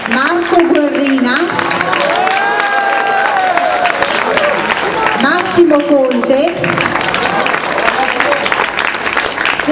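Audience applause for members of a town band at an outdoor summer-evening concert in Cassine, a loud continuous crowd clapping under an announcer reading names over a PA.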